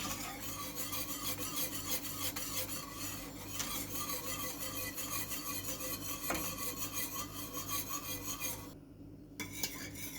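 Milk pudding of milk and corn starch stirred steadily in a pot, a continuous scraping and rasping of the spoon against the pot bottom, close and fairly loud, with a brief pause near the end.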